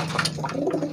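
A racing pigeon coos nearby, a low throaty gurgling call repeating in soft rolling pulses over about a second, fairly close and clear with no talk.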